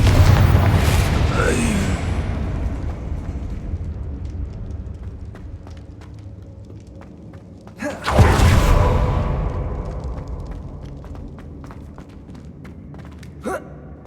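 Confringo fire spell cast in Hogwarts Legacy, a burst at the start that fades, then a second sharp explosive boom with a whooshing tail midway, followed by a brief later impact and light game sounds in between.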